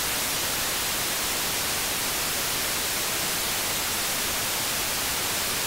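White noise run through the Airwindows Slew3 plugin, a steady full-band hiss with a softened, slightly darkened top end, constant and unbroken throughout.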